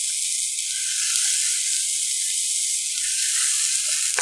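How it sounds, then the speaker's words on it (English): Spring onion frying in a pan over medium heat for radish kimchi fried rice, a steady loud sizzle that stays even throughout and close up, with no talking. "you fry this spring onion"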